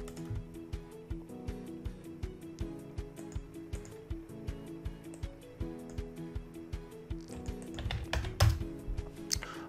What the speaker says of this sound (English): I'm going to type the code spell checker.